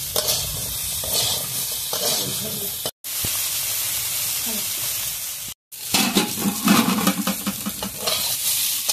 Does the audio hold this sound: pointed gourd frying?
yes